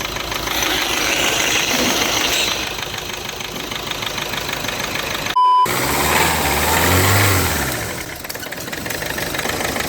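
A cold car engine with blow-by idles roughly with a knocking, chugging rhythm and breathy puffing, interrupted by a brief cut before the rumbling resumes, louder and deeper.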